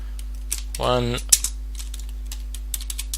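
Keystrokes on a computer keyboard as a command is entered at a Linux terminal, a quick scattered run of close clicks with a brief bit of speech near the start.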